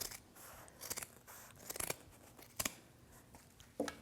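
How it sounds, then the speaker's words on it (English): Scissors snip through thick rug fabric on an upholstered ottoman, several separate crisp cuts at uneven intervals, close up and fairly quiet, with no talking. "with my scissors, come back behind the fold and cut out"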